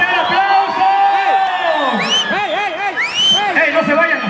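A crowd at a lively outdoor game show event in Valle de Chalco cheers, whoops and shouts loudly, rising and falling in excited bursts for a few seconds.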